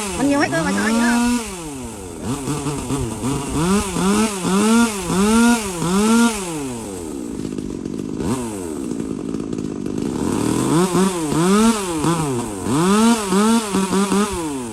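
A chainsaw revs and bogs in repeated rising-and-falling bursts while cutting a standing tree, loud and close, with a pause mid-way before the cutting resumes.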